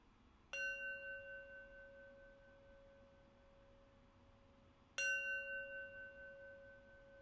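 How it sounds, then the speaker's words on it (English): A meditation bell closing a mindfulness practice rings twice, each strike a clear sustained tone that slowly fades, the strikes spaced several seconds apart in a quiet room. "I'll close practice with 3 rings of the bell"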